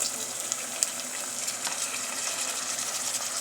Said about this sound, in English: Our onions are ready, so at this point we are going to add our tomatoes.